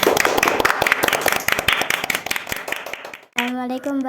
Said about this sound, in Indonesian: Tepuk tangan untuk Celia.